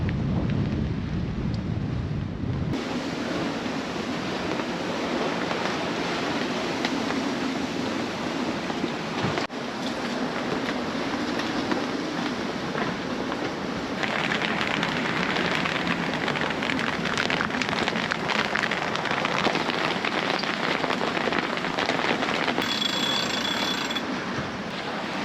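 Squall wind and rain batter a sailboat at sea, a steady roaring wash of gusts and spray that grows harsher partway through, with no talk over it.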